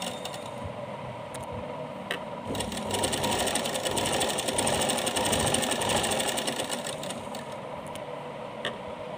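Sewing machine stitching piping onto a small dress, a steady fast mechanical whir with light ticking that grows louder in the middle, heard alone without talk.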